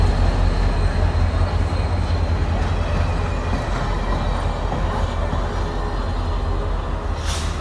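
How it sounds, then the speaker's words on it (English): Train locomotives rumbling past close by, a loud steady roar with deep low-end drone and rolling rail noise sustained throughout, with no talk. "I love those locomotives."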